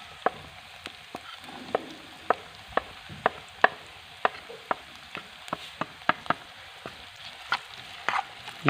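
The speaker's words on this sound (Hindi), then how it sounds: "प्याज के साथ साथ हम डालेंगे ये बिल्कुल बारीक कटा हुआ आलू डालेंगे।" Onion and finely chopped potato frying in a pan for a vegetable omelette: a soft steady sizzle under regular sharp taps and scrapes of a stirring spatula, close and fairly even in rhythm.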